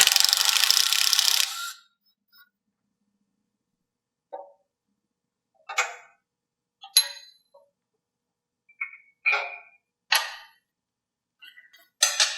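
Hand tools clink and clang while loosening a hose clamp on hydraulic lines of a Schulte High Rise rock picker valve setup: a burst of noise, then about eight separate sharp metallic taps and rattles, close and with quiet gaps between them.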